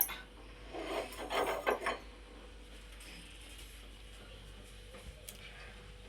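Faint, brief rubbing and scraping as a spoon mixes dough with carom seeds, cumin and sesame in a bowl, a short cluster of close strokes followed by near quiet.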